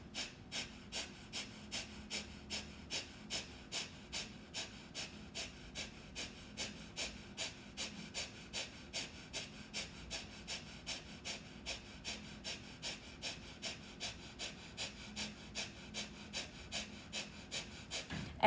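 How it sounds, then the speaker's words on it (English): Rapid rhythmic panting, like a dog, done as a breathing exercise: quick sharp breaths at a steady fast pace, close and clear, continuing evenly with no talking. "It's like a dog panting."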